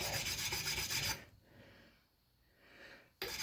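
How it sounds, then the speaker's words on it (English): An oil stone rasps along the edge of a splitting axe, making steady scraping strokes close up for about a second. A quiet gap follows before the rubbing resumes briefly. "just smooth out that edge a little bit"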